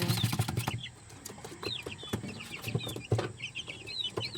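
Young chicks on a farm peep and chirp softly in quick high bursts, fairly faint and scattered over low background rustling, with no talk.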